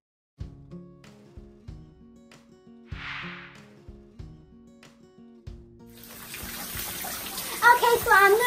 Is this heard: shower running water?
yes